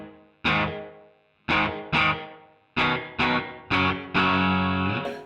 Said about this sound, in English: So here's the reverb.